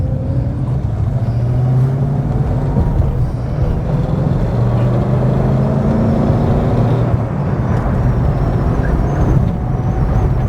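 A Rover 3500S (P6) engine drones loudly and steadily from inside the car as it drives, with a constant low rumble and shifting engine tones throughout.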